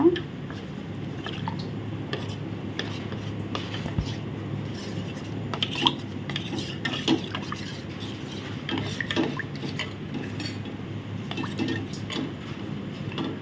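Cornflour blended with water is stirred in a pan for a melt-in-the-mouth halwa, giving soft, continuous wet squishing and dripping with faint clicks, while a person talks over it throughout.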